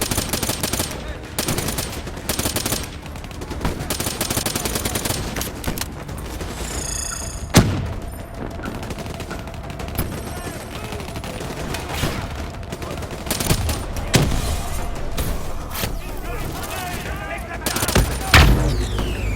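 Machine-gun fire in Black Ops III, with repeated bursts of rapid shots and a few heavier booming impacts scattered across a busy battle soundscape, partly under voices.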